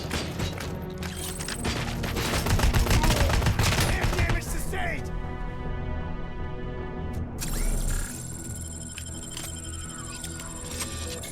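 Gunfire from a weapon in the RoboCop Rogue City video game: a dense burst of rapid shots and clanking impacts for several seconds, then quieter mechanical sounds and electronic game tones.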